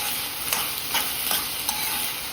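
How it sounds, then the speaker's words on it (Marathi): Sprouted green mung beans sauté in hot oil with onions, giving a steady close sizzle broken by a few soft stirring scrapes from a spoon. "असे मूग एक मिनटं आपण तेलावर परतून घेऊया कांद्यावर छान आपल्याला मूग परतून घ्यायचे आहेत"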